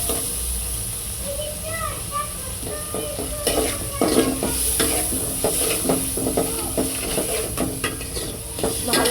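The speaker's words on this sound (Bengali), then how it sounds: "ভালো করে ভেজে নিতে হবে" Ginger-garlic paste fries in a pan with a bright, hissing sizzle while a spoon scrapes and stirs it repeatedly, and faint voices murmur in the background.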